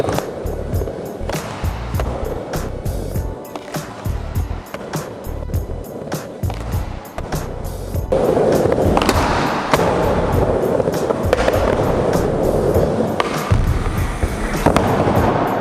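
Skateboard wheels roll and rumble on a ramp while blunt fakies bang and scrape the coping, a dense stream of rolling noise with sharp clacks and grinding hits, loud and continuous, growing heavier partway through.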